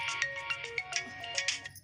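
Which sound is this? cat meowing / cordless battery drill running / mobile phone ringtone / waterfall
mobile phone ringtone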